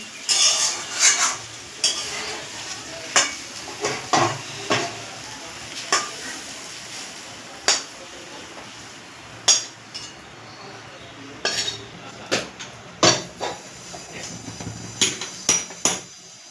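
Banana flower cooked with prawns is taken off the pan, and sharp metal clinks and scrapes of a spoon against the pan sound at close range over a soft sizzle.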